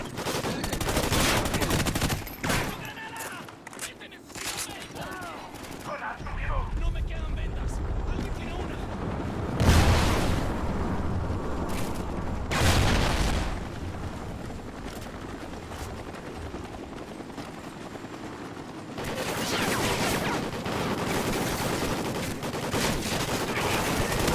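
Suppressing gunfire in the video game Call of Duty Ghosts: sustained bursts of loud automatic fire with sharp blasts and rumbling explosions, mixed with game effects and voices talking throughout.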